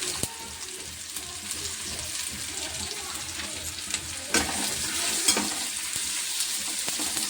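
Chicken biryani masala sizzling in a pan as it is stirred, a continuous close frying hiss with occasional scraping and clinks of the spoon, no voices.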